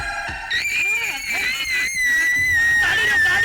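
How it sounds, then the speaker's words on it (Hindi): A woman's high, sustained scream rings out in a dramatic film scene, wavering in pitch over several seconds amid shouting voices. "ये उसी की चीख है।"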